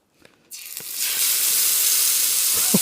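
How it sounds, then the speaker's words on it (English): Food dropped into hot oil on a camping stove bursts into a loud, steady sizzle that starts abruptly and holds on, close by. "Let's get this oil warmed right up."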